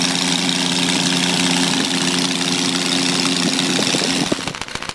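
A Megola motorcycle's 0.64-liter five-cylinder radial engine idles steadily at moderate loudness, a continuous mechanical hum that breaks into rapid uneven knocking pulses near the end.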